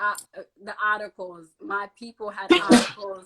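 A sneeze bursts out once, loud and close, in the middle of steady conversation, with people talking right before and after it.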